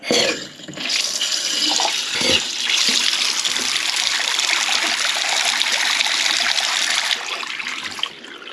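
Tap water gushes loudly into a basin, a steady bright rush that starts abruptly, holds for several seconds, then eases off.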